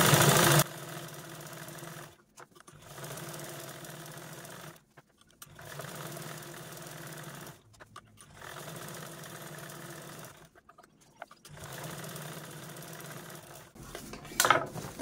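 A sewing machine runs in steady bursts, quilting rows of stitches across fabric, with short pauses between each run and a small clatter at the end; no talking.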